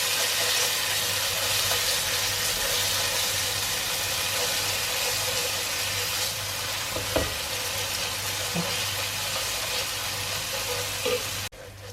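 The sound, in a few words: onions frying with ginger and garlic paste in a pan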